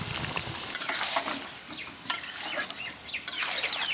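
Chicken curry masala with a little sour yogurt and ground spices frying in a pan for a dhaba-style chicken curry, giving a steady close sizzle with scraping stirs and occasional utensil clinks throughout.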